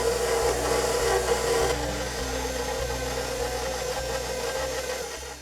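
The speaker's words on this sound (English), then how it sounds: "I'm going to let the mixer knead this until it forms a ball" Stand mixer kneading a stiff, dry pepernoten spice cookie dough, a steady motor hum with a repeating rhythmic thump about every half second as the dough turns, moderately quiet and alone.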